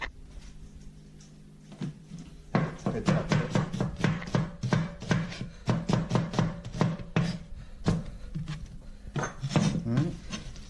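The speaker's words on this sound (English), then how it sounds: "some onion. So we're gonna go ahead and just chop that up." A knife chops onion on a board for beef chow fun, a rapid, steady series of close, crisp thuds of about two per second, with a brief pause before the rhythm begins.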